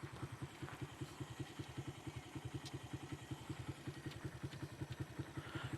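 A motorcycle engine idles with a steady, low, rhythmic thumping pulse, heard faintly at a distance with no other sounds over it.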